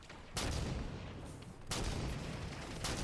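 Gunfire from the video game Halo 5 multiplayer: two loud, broad bursts of shots stand out over a steady noisy game background, with a third starting at the end.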